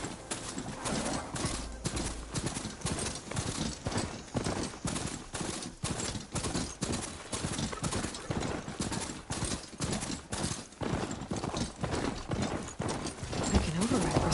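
A ridden Bristleback machine mount in Horizon Forbidden West pounds along in a fast, regular galloping rhythm of heavy footfalls, close and continuous for the whole stretch.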